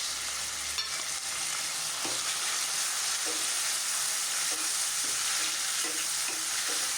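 Onions and chopped tomato sizzle in a hot pan with steady frying noise, while a spoon stirs and scrapes now and then against the pan.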